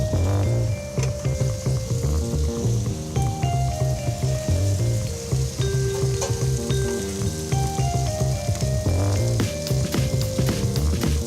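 A roasted rack of lamb sizzles steadily and loudly just out of the oven, with a crackling fizz and occasional metallic clinks from the tray, and no talking.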